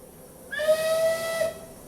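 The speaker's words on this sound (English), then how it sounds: "That was a whistle blowing." Steam whistle of the Taw Valley steam locomotive blowing one sustained, loud tonal blast of about a second with airy hiss around it, rising and cutting off cleanly.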